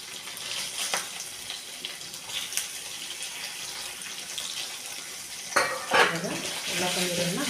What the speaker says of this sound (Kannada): ಇವಾಗ ಏನಕ್ಕಲ್ಲ ಪನ್ನೀರನ್ನು ಫ್ರೈ ಮಾಡ್ಕೊತೀನಿ ನೋಡಿರಿ.